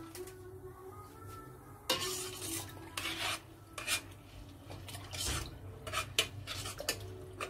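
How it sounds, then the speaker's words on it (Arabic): Ingredients, including baking powder, are stirred in a cooking pot for a Tunisian Ashura dish: a spoon gives quiet, close scrapes and clinks against the pot in an irregular rhythm, with no talking. "نخلطو توا كيما هكا"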